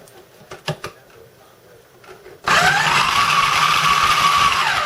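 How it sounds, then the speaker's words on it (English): A small food processor grinder with a broken plastic part starts up after a few quiet knocks and fumbling sounds, then runs with a loud, steady whirring roar close by. "If I can get my little grinder here to work. Grinder, food processor."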